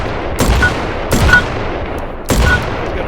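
Three loud gunshots in the VR shooter H3VR, fired one at a time with short gaps between them. Each gives a sharp crack and a brief decaying tail over a constant background hum.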